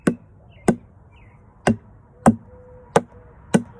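A plastic spoon taps the side of a plastic container six times, spaced unevenly about half a second apart. Each tap is a short, sharp, hollow click in a quiet room.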